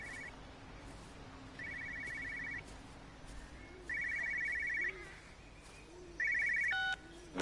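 A payphone rings in the video game Everybody's Gone to the Rapture: four separate bursts of electronic ringing, fairly faint and spaced a second or more apart over a low, steady background hum.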